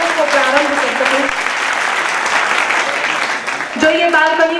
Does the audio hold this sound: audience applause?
yes